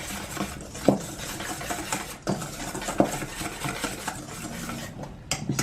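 A spoon stirring dry tempura batter mix with chili and smoked paprika in a bowl: steady scraping and rattling against the bowl, broken by several sharp clinks, close up with no talking.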